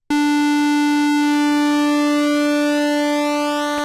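A Microbrute analog synthesizer holds a steady, loud square-wave tone with pulse width modulation, a faint hiss of noise running underneath for nearly four seconds without pause.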